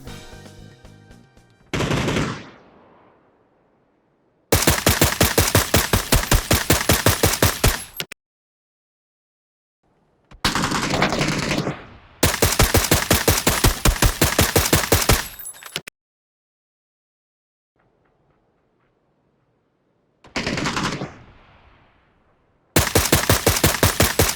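Three bursts of rapid automatic gunfire in the video game PUBG, each a few seconds long, with single louder shots just before them and near-silent gaps between.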